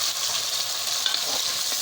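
Onions cook in a pot for a kala chana pulao, giving a steady, close sizzle and frying hiss that runs unbroken with no one talking.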